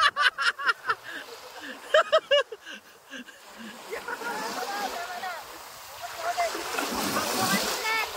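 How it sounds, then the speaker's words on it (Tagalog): Sea waves break and splash along a shore in Mindoro, a rushing surge that swells and fades, following excited shouting and cheering from people nearby. "Lalaki na niya ng alon."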